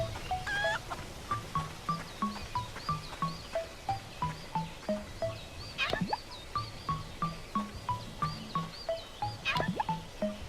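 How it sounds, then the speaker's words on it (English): Chickens cluck in repeated short bursts in the Lost Odyssey video game, a steady rhythmic run of close, moderately quiet calls with a few sharper squawks. "Why are chickens here?"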